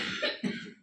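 A young girl gives a single short cough, close and fairly soft, in a quiet room with no talking.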